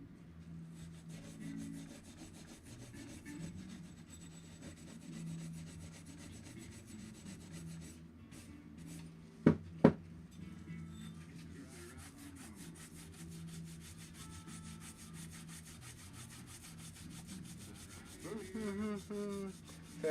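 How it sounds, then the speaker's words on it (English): Steady scrubbing of an antique with a scouring pad, a soft continuous rasping rub at close range with a couple of brief knocks midway and low background noise throughout. "we'll go over him with the scouring pad once. Give him a rub down"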